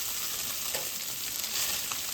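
Meat browning in a pan for chili, a steady, fairly soft frying sizzle with occasional light stirring scrapes, close and unbroken.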